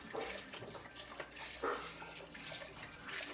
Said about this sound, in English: I'm putting 3 cups of rice, a half a gallon of chicken broth.